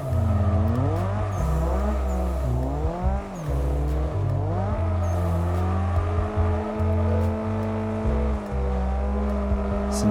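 In Assetto Corsa, a car drifts in second gear, its engine loud and close and revving up and down through long sweeping slides, with tire noise under the engine.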